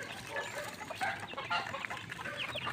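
Chicks feeding together at a trough, a busy patter of soft clucks and cheeps over a steady low hum, close and continuous.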